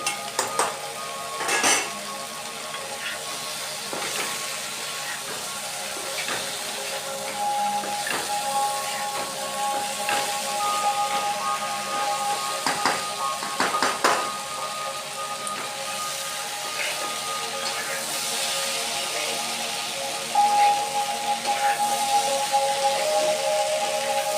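Fried shrimp and yardlong beans stir-fried in a pan: a steady sizzle runs throughout with frequent scraping and clinking of a spatula against the metal, with no voices.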